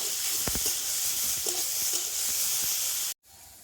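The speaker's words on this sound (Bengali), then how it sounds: "তো টমেটো আর এই সবজিগুলো তেলের সাথে একটু ভেজে নেব।" Tomatoes and other vegetables fry in hot oil with a steady, close sizzle and a few stirring scrapes. The sizzle cuts out abruptly near the end.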